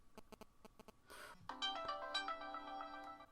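A phone ringtone sounds during a recording session: a short run of quiet electronic beeps, then a brighter melodic chime rising over faint room noise.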